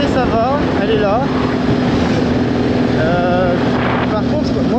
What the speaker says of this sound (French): entre le vent et le bruit de la moto